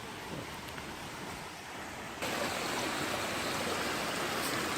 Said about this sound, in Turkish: Kuş sesleri, su sesleri cıvıl cıvıl etrafta.